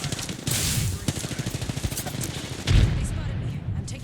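Gunfire in an Apex Legends match, a stream of quick automatic shots near and loud, followed by a heavier blast, with a player talking over it.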